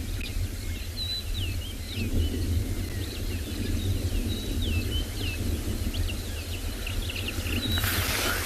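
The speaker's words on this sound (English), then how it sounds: "nice to just sit and listen to the bird calls as these guys go about their business" Birdsong at sunrise on a safari reserve, with several whistled calls repeating over a steady low rumble of wind or a vehicle, moderately distant, and no voices.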